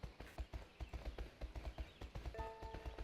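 Horse hooves cantering in the video game My Horse & Me 2, a steady rhythmic clip-clop of close, fairly quiet hoofbeats with a soft tone chiming in near the end.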